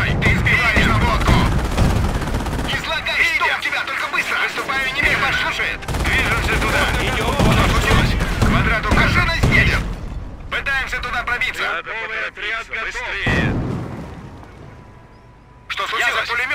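Dense gunfire, machine gun bursts and booming explosions fill a Company of Heroes: Opposing Fronts battle, loud and nearly continuous, with in-game voices shouting over the din.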